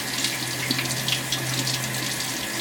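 Tap water runs steadily into a sink while a makeup brush is rinsed on a Sigma Spa Express cleaning glove, a constant close hiss with no voices.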